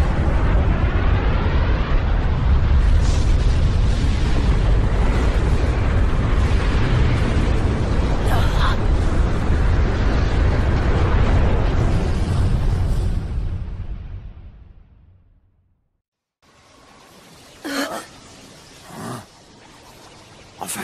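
Loud, sustained cartoon explosion from the Naruto Shippuden anime, a dense roaring blast lasting over ten seconds before fading into near silence, followed by a few sharp bursts and crackles.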